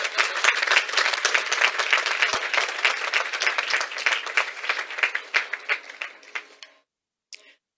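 An audience at a medical school white coat ceremony claps in steady, dense applause for several seconds, then thins into a few scattered claps before falling silent.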